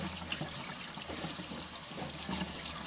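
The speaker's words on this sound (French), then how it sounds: "Maintenant, on va aller passer à l'eau. Donc, je vais passer à l'eau froide." Cold tap water runs steadily from a faucet into a sink while cucumber seeds are rinsed, a continuous close splashing stream with no talking.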